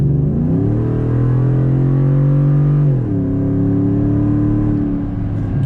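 A Coyote-swapped Ford F150 truck engine revs hard as the truck accelerates, its loud droning pitch climbing steadily, dipping sharply at a gear change, then rising again, up close and without talk.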